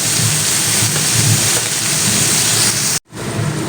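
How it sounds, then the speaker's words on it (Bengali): Heavy rain pours down steadily and loudly with a deep rumble of thunder underneath, cutting out abruptly for a moment near the end before resuming. "আগাছে বেশ গর্জন হচ্ছে তো বন্ধুরা আবারও বলবো একটু ধৈর্য সহকারে দেখবেন প্রচুর বৃষ্টি হচ্ছে আমাদের এখানে"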